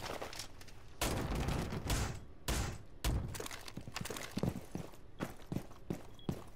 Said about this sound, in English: Gonna barricade this one off.